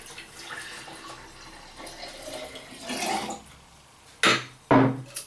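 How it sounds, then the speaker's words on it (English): Water pouring into a jar holding kefir grains and sugar, with a soft trickle building and then two sharp splashy pours near the end, close by and with no voice over it. "then I'm going to pour in my water"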